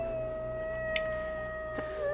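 A man imitating a howl, a sustained tonal wail that holds steady and slowly bends over a couple of seconds, fairly close and alone without talk.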